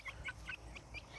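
A handful of quick, faint clucks from backyard chickens come close together over a dull, low background hum, with no voices.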